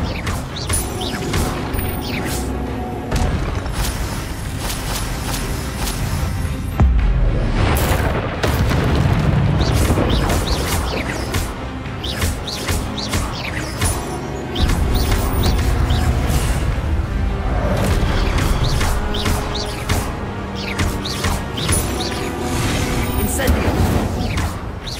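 Repeated Incendio fire-spell blasts in the video game Hogwarts Legacy, a string of booming bursts and crackling flame over a dense, loud mix of game music and effects, with surges around the middle and later passages.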